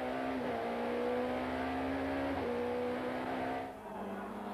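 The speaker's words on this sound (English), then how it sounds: "we pick up race cam action from James Weaver in third place in the Motorplan BMW" Onboard a Motorplan BMW touring car racing at Kyalami in 1994, the engine screams loudly and continuously at high revs with a pitch shift on a gear change and a dip near the end, with no talk.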